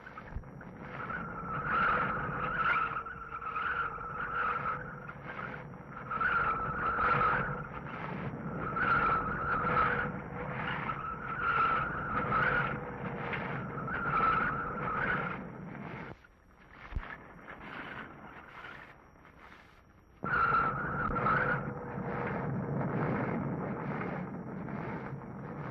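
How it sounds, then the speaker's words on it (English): Car tires squeal and skid again and again down a crooked San Francisco street with eight hairpin turns in one block, a steady engine drone underneath, one brief gap of near-quiet midway. "a ride down the world's most crooked streets. 8 hairpin turns in a single block."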